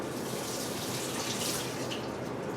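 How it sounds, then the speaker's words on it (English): PMK pyro developer is poured into a film developing tank until it overflows, a steady close liquid pouring and splashing that runs without a break, with no talk. "the last time I want to pour in more than is needed to make it overflow and push all the bubbles out"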